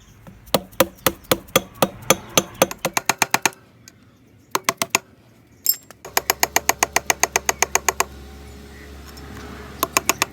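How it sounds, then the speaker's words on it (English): Steel hammer blows on a screwdriver flattening the clutch locking washer of a KTM 250/300 two-stroke dirt bike during a Rekluse clutch install: rapid, loud, sharp metallic taps in quick bursts, with brief pauses between runs. "Use a screwdriver and hammer to flatten the locking washer"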